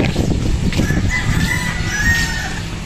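Roosters crow and chickens cluck in a poultry breeding area holding stags and pullets, a few drawn-out crows over busy nearby clucking and scratching.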